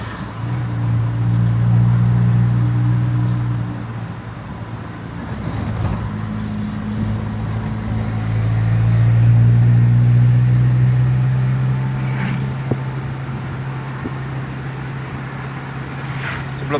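A Toyota Kijang's engine drones steadily from inside the car on a test drive, a loud low hum that swells and eases with the throttle.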